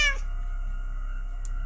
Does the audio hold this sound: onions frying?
no